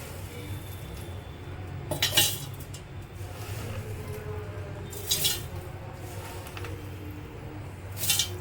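Seeds and dry fruits are dropped into a mixer jar in three brief clattering bursts, close and distinct, separated by quieter stretches of low background noise.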